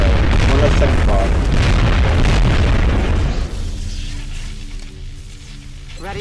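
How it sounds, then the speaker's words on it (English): A frag grenade blast in the strategy video game XCOM Enemy Within, a loud booming explosion rumbling for about three seconds before fading into quieter game ambience. "use a grenade. Frag out!"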